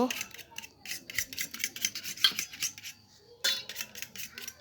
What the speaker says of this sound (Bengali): এখন আমি লেবুর রসটা দেওয়ার পর আরেকবার ভালো করে ফেটে নিব